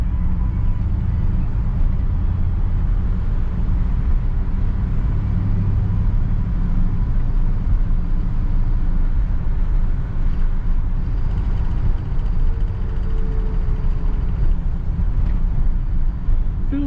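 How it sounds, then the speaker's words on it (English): A 1959 Chevy Bel Air on the road, its engine giving a steady low rumble from inside the car along with road noise, continuous and moderately loud with no talk. "Feels good to drive the old Chev."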